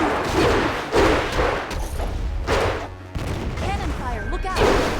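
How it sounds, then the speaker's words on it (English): Heavy booms and blasts of cannon fire in the video game Jade Empire, repeated explosive thuds mixed with a shouting voice and battle noise. "Cannon fire, look out!"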